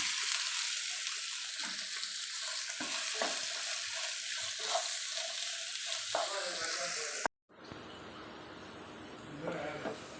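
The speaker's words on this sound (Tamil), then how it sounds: "வெங்காயம் நல்லா வதக்கிடுச்சு" Steady, close sizzling of chopped onions sautéing in oil in a hot pan, with occasional stirring scrapes. It cuts abruptly to a quieter, different background near the end.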